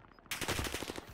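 Automatic gunfire from Call of Duty Warzone bursts in abruptly after a quiet moment, a loud rapid string of shots continuing to the end.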